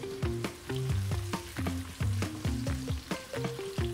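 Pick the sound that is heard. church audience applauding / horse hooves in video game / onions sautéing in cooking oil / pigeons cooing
onions sautéing in cooking oil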